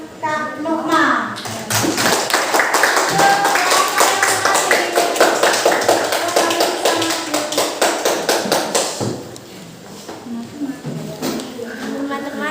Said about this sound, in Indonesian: tepuk tangan buat kelompoknya Kak Nukma.